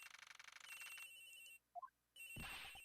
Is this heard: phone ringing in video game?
yes